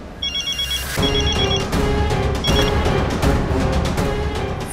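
A telephone rings loudly and close, with repeated electronic bell trills in short bursts over a busy dramatic music bed.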